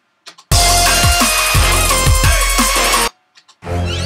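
Electronic production track playing back, dense and loud with punchy low kick hits and layered synths for about two and a half seconds, framed by brief quieter sounds before and after.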